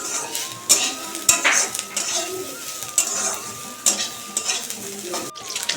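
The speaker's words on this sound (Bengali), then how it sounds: "এখানে তরকারির জন্য মাছ ভাজা চাপিয়ে দিয়েছি" Fish frying in a pan gives a soft ongoing sizzle, broken by sharp clinks and scrapes of a utensil against the pan.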